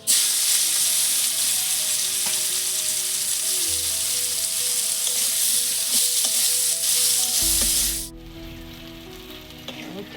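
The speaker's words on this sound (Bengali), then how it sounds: "উচ্ছেটা ভাজার জন্য কড়ায় তেল দিচ্ছি" Bitter gourd pieces frying in hot oil with turmeric and salt in a wok hiss in a loud, steady sizzle with occasional stirring scrapes, then the sizzle cuts off abruptly, leaving low clatter.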